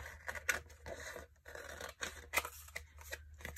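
Paper trimmed with scissors during a sewing-themed papercraft project: a quick series of crisp, close snips and slicing cuts with short pauses between them.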